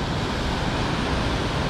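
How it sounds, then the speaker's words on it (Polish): Sea waves crash against rocks below a viewpoint near a Buddhist temple in Rawai, Phuket, making a loud, continuous roaring rush of surf with no pauses and no voices. "Rozbijające się o skały fale."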